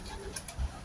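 Pigeons kept by a pigeon fancier give a brief, low cooing burst close by, with faint background noise and no talk.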